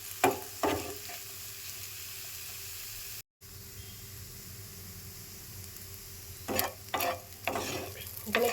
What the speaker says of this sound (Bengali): যা আলু আর পেঁয়াজের সাথে ডিমটা দিয়ে আমি ঝুড়ে ঝুড়ে মতো করে নেব।